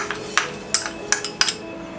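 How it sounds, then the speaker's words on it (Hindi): Fennel seeds poured into a pan for dry roasting, heard as a few bright, brief clinks and patters spaced out over two seconds, close and fairly crisp. "पैन में डालेंगे ये सौंफ"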